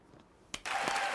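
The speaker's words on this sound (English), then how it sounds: "Round of applause for validation" A studio audience at a live talk show breaks into a round of applause after a brief quiet moment and a single sharp clap, then the clapping continues full and steady to the end.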